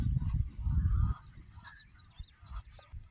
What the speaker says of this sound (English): That's the sound of the beautiful ducks.